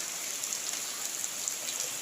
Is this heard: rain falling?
yes